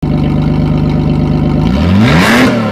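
Holden VN Commodore engine running with the exhaust removed, a loud close raw idle that climbs into a sharp rev and falls back, no talking.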